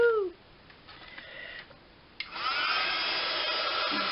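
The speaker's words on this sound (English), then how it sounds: "It's the only thing with heat guns, they're really noisy." A heat gun starts up and blows with a steady, moderately loud airy whoosh and whine, preceded by quieter handling sounds and a short tonal squeak.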